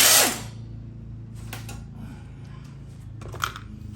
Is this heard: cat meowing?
no